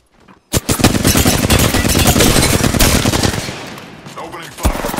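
A long, loud automatic-weapon burst in Apex Legends, rapid rattling shots fired close for several seconds before tapering off, followed by one more sharp shot.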